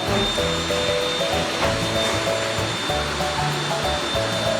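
A child's toy vacuum cleaner running on a balcony, giving a steady buzzing hum with a thin high whine and faint rhythmic pulsing, loud and continuous throughout.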